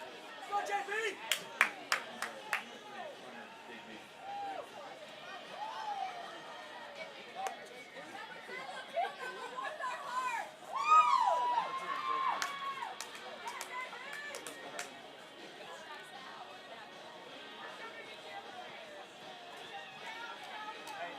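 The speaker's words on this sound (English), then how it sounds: "Got a lot of cheering there." Crowd at a high school baseball playoff game between Pleasant Grove and Lindale, a steady murmur of chatter with scattered claps and whoops that swells into a louder burst of cheering midway before settling back to a low hubbub.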